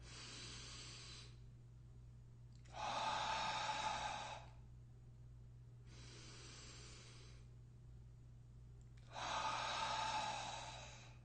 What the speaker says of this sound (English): That's where square breathing saves the day, because you can do it right then and there.